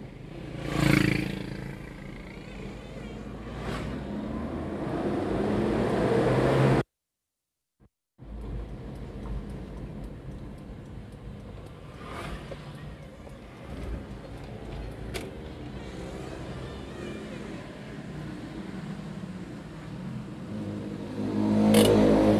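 A Toyota Kijang Kapsul engine runs during a test drive, vibrating at low RPM with occasional knocks, a steady close rumble with brief swells of revving and a short cut-out near the middle.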